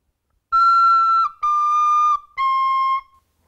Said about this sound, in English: This recorder plays so high. It sounds so shrill.